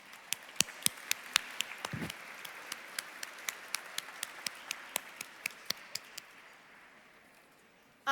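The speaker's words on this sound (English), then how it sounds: "you deserve a big round of applause" Scattered, sparse hand claps from a small audience at a scholarship fund dinner, about a dozen distinct sharp claps spaced out over several seconds, close and thin rather than a full ovation.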